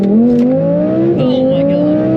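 An Audi R8 V10 Plus with an expensive aftermarket exhaust revs hard and loud from the cabin, its steady rising engine tone climbing through a paddle-shifted gear change.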